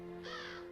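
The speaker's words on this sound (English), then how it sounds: "I don't want to attack the crow." In the video game Sword of the Vagrant, a crow lets out one short, raspy caw over a steady tonal hum of game background sound.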